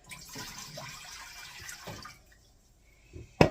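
Four cups of water run and splash into a cooking pot for a couple of seconds, stop, then a sharp metallic clunk lands near the end.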